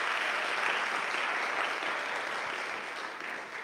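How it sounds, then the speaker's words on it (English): Community audience at a Black History Month gathering gives the artists a round of applause, a full, even burst of clapping that slowly tapers toward the end. "can we give them a round of applause just for being here?"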